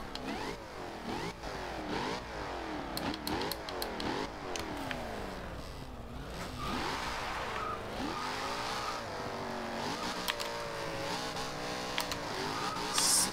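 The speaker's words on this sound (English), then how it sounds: "Oh yeah, you can easily hear that supercharger now." A 2015 Jaguar F-Type R Coupe engine in Forza Horizon 2 revs up and down through the gears, its pitch sweeping repeatedly with a whining supercharger note, loud and close throughout.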